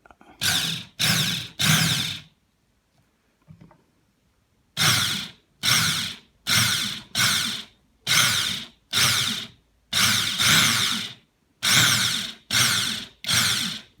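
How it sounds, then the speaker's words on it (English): A power drill with a bigger bit bores into acoustic guitar wood for an endpin jack in short repeated bursts: three quick runs, a pause, then about ten more bursts in a steady rhythm, loud and close. "we're going in with a bigger drill bit now"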